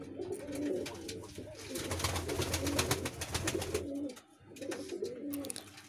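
Fantail pigeons in a breeding pair cooing nearby, with loud repeated guttural coos in rhythmic bursts, a brief pause near the end, then cooing resumes over a busy background.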